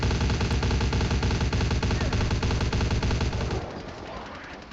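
Rapid automatic gunfire in the game Vampire the Masquerade Bloodlines rattles as a loud, continuous burst that cuts off near the end, leaving a fading tail.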